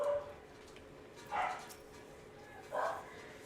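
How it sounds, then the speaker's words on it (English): Dogs barking in a game scene, two or three short barks spaced more than a second apart, moderately loud over a quiet background hum. "God damn it, dogs. They just gotta be loud."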